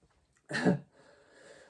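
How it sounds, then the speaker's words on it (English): A single short sneeze bursts out of near silence, followed by a faint breathy sound as it fades. "My nose is itchy and I'm sneezing."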